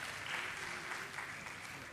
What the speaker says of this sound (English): I would request all of you to give them a big round of applause.